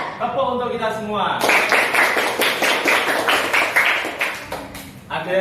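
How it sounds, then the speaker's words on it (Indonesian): Schoolchildren in class clapping together for everyone as part of a routine, a rapid patter of many hands lasting several seconds, blended with children's chanting voices. "tepuk untuk kita semua."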